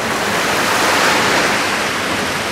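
Ocean waves on the beach at Hayama, heard from a seaside restaurant terrace as a steady, loud, continuous rush of surf with no voices.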